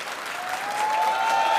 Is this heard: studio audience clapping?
yes